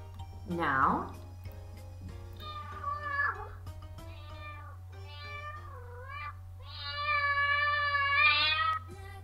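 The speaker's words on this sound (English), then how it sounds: "This is very easy. It is a cat." A cat meows several times in a row, starting with a sharp cry and moving into longer, wavering and rising meows, the last one drawn out and fairly loud, over a constant low hum.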